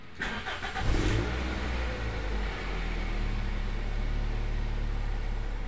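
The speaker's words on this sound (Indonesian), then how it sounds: "Kita matikan, kita hidupkan lagi, kita coba starter lagi." A Toyota Altis engine cranks briefly on the starter, catches, and settles into a steady idle hum, heard close with no voices.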